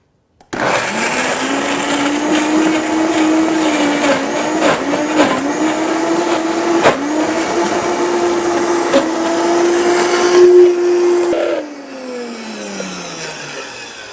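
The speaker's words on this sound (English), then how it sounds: "this is where the stronger blender really comes in handy for fully blending this up. So now we're going to blend." A high-powered blender whirs loudly through raw food, a steady motor roar with slight pitch shifts, then winds down near the end, close-up with no talking.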